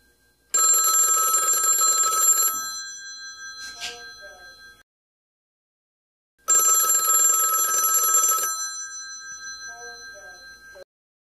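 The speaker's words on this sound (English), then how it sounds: "Good old mechanical bell." Two long, loud rings from the mechanical bell of a vintage ITT 2500 desk phone, each roughly two seconds and ringing out afterward, separated by handling noise and a short silence.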